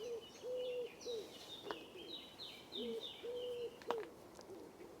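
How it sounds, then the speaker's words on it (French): A pigeon in the Tarn countryside coos in short repeated phrases, faint and alone against quiet outdoor background, with a few small clicks between the calls. "Il en fait 5 le pigeon, alors que la tourterelle en fait 3"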